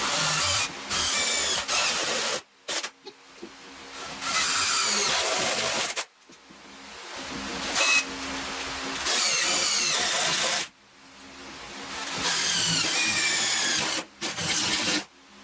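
A power drill bores out metal on a Jeep Wrangler YJ during rust repair, whining in repeated loud bursts of a few seconds each, separated by short pauses.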